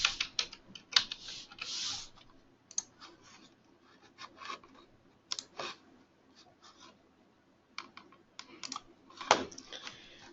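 Someone types on a computer keyboard while logging back into a web account, irregular clusters of crisp key clicks with short pauses between bursts, close and alone.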